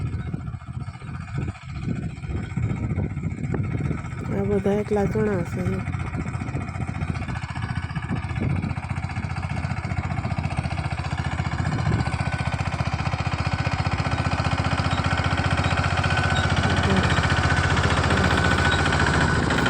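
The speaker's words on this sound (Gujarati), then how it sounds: "આ ઝીણકું ટ્રેક્ટર કહેવાય મિની ટ્રેક્ટર કહેવાય ને મિની ટ્રેક્ટર મિની ટ્રેક્ટર હાલે છે" Mini tractor engine chugging in a farm field, a steady close mechanical rumble running throughout while a voice talks briefly over it early on.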